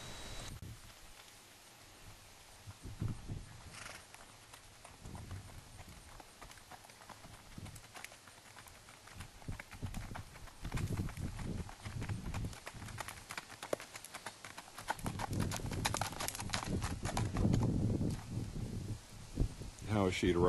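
Gaited mare walking with a soft, irregular clip-clop of hooves, faint at first and growing closer and louder toward the end, with people talking throughout.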